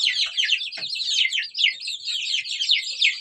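Month-old chicks chirp in a continuous, busy chorus of high peeps, close and fairly loud, with a faint deeper cluck or two underneath and no talking.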